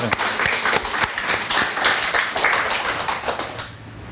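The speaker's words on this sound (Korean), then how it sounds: "하나님께 영광의 박수 한번 쳐드리겠습니다" A church congregation claps together in praise during a sermon, a loud, close burst of many hands with sharp individual slaps standing out, fading slightly near the end.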